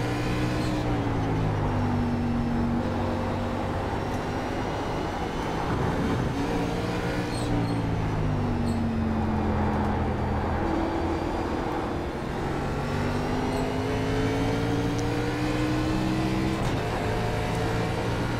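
NASCAR race car in iRacing at Watkins Glen, engine droning steadily and rising in pitch through repeated gear shifts, each upshift dropping the tone before it climbs again, loud and continuous without talk.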